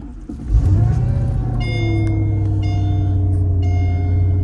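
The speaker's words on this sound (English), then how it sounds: "Let me just start the car." A car engine cranks and catches, then settles into a steady low idle close by, with dashboard chimes beeping in a repeating pattern over the running motor.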